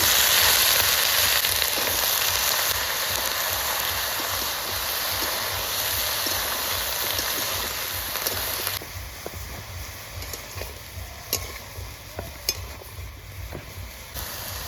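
Chopped vegetables go into a hot pan on a home stove and fry with a loud, steady sizzle. It later drops to softer crackling, broken by scattered clicks from stirring.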